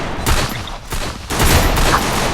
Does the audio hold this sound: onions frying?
no